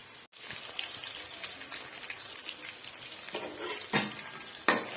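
Onions and chicken fry in a pan for palak gosht, giving a steady close sizzle with occasional louder scrapes of stirring.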